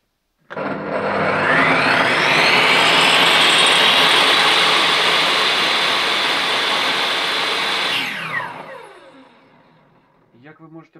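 Bosch PTS 10 table saw switched on, its motor soft-starting into a loud, steady high-pitched whine close by, then the blade braking and winding down with a falling tone near the end.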